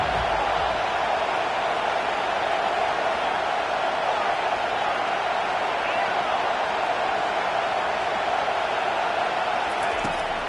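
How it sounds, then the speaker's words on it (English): A packed stadium crowd roars steadily throughout a Kansas vs Florida college football game, a dense, unbroken wall of noise held at constant loudness with no lulls, as fans try to help their defense. "Listen to this crowd just shaking the girders of this place trying to help their defense."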